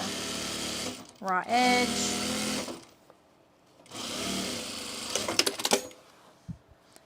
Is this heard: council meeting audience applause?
no